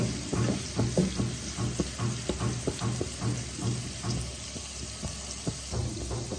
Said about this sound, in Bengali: পনিরগুলোকে ভেজে নিচ্ছি।